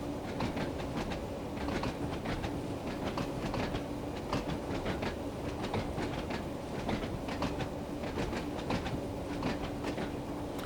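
A train on the Isle of Wight line in the Train Sim World 2 video game runs steadily, with a continuous rumble and rhythmic clickety-clack of wheels over rail joints. It stays at a moderate level throughout, with no talking.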